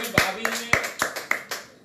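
A few people on a show set clapping in a short burst of applause, close and uneven, with a voice briefly underneath.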